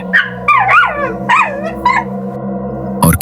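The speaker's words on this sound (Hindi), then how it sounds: "दूर कहीं कुत्ते रो रहे थे" Dogs howling and crying in a still village night, drawn-out wavering wails rising and falling in several overlapping bursts, fairly loud and alone with no talk.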